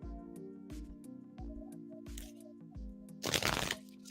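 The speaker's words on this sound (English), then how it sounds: "Jazz, I'm shuffling for you." Tarot cards are shuffled during a reading, giving quiet rustles and one louder burst of riffling near the end over a steady low background hum, with no talk.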